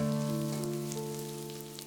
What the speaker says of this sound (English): Fry till onion turns light brown in color.